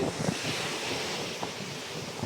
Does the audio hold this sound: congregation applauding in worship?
no